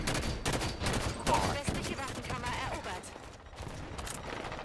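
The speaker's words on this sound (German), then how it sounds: "Da hinten ballert einer." Rapid bursts of gunfire in Halo 5: Guardians during an online Warzone match on the Apex 7 map crackle steadily at mid distance, with game noise and voices talking throughout.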